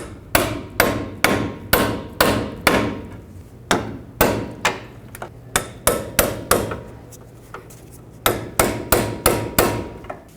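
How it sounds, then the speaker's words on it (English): A pry bar is hammered against a 2007-2009 Saturn Aura steering shaft joint, metal-on-metal blows ringing out in steady rhythmic strikes, about two per second, with a short pause midway before the blows resume. "I'm going to try to hammer this joint upwards"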